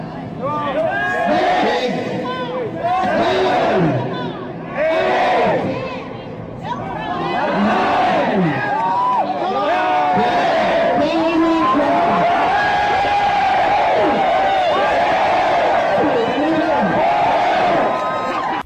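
A large exhibition crowd roars and cheers while bodybuilder Tom Platz squats 500 pounds, with loud sustained shouting and whooping that swells and dips across the span.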